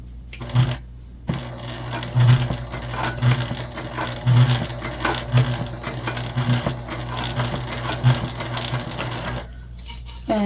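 A sewing machine stitches a fabric pouch with a rapid, even mechanical clatter running close and loud for several seconds, then stopping.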